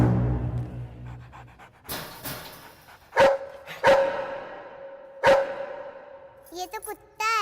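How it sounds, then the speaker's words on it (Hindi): A dog pants heavily and then lets out three sharp, loud barks in a row, with short yips and rustling between them, close to the listener. "ये तो कुत्ता है।"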